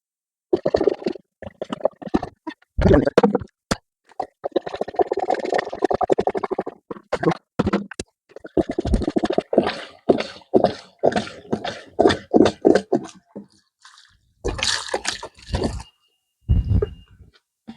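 Antifreeze pours through a funnel into a boat's plumbing system during winterizing. Irregular gurgles and glugs come close by in uneven bursts, with a few short gaps of quiet.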